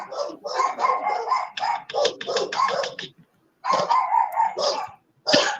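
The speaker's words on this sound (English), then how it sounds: "They have to forgive the dogs in the back." Dogs bark repeatedly in the background of a room, a run of sharp, rapid barks that pause briefly and then resume, fairly loud and close.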